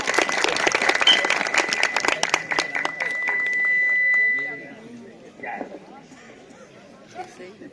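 Crowd applause at a dangal wrestling event in Ranveerpur, Mau: scattered, fairly close clapping that fades after a few seconds, followed by quieter crowd murmur and talk.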